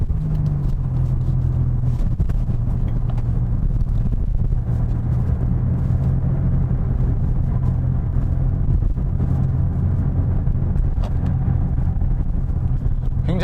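Steady, loud road and engine rumble from inside a 2020 Kia K5 1.6T sedan taking a corner at high speed in sport mode, with wind noise and no talking.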